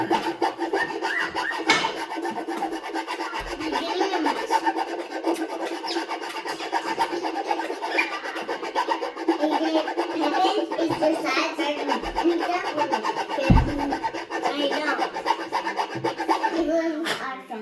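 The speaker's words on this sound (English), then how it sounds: "I need to ream it a little bit more to get room for the bushings" A reamer widening tuner bushing holes in a guitar headstock during a Grover tuner swap on an Eastman guitar, with a continuous close rasping and scraping of wood under intermittent talk.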